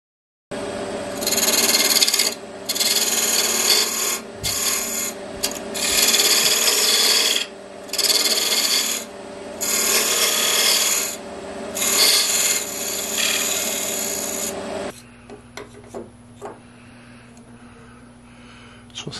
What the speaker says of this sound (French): je vais répéter l'opération pour faire encore une fois une mortaise à l'intérieur